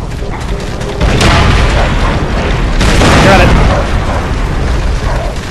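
Loud, rumbling explosions from a tank being blown up in the World War II shooter Call of Duty: World at War, heavy booms swelling twice over continuous battle noise, with voices talking over it.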